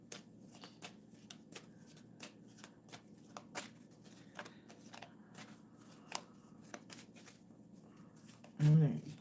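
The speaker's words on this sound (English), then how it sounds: "I'm going to give it a couple more shuffles" A tarot card deck is shuffled by hand in a quiet room, with a rapid run of crisp riffling clicks and soft slaps repeating over several seconds, closing with a louder thump.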